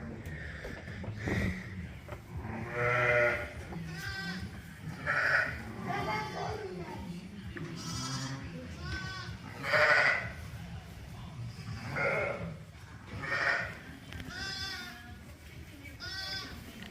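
A Scotch ewe bleats repeatedly on a farm during lambing, loud close calls recurring every couple of seconds over background noise and a person talking.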